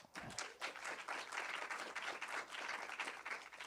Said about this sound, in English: Everybody, a warm round of applause for Nick.